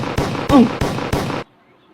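A grenade blast effect in a comedy skit comes as a run of loud, sharp bangs in rapid bursts, ending abruptly in near silence.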